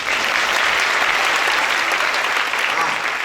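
An audience at the close of a talk at a relaxed youth talk show in Penedo claps continuously, a dense, even wash of applause that holds at a steady level from start to finish.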